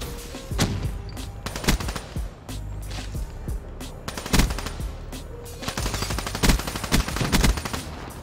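Rapid automatic gunfire in a hardcore free-for-all first-person shooter match, with bursts of sharp shots and explosive bangs layered over a steady background of game ambience.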